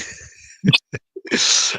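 A single sharp sneeze bursting out close to the microphone, preceded by a quick intake of breath and followed by a brief noisy exhale.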